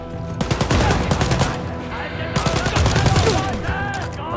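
Gunfire in the Wolfenstein: Youngblood video game, rapid bursts of automatic shots in close succession with a short lull in the middle, loud and near.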